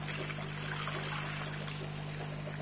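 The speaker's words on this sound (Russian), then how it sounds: "Наливаем сюда водичку" Water trickles steadily into a plastic bag while packing fish, a soft continuous pouring over a constant low electrical hum, close and fairly quiet.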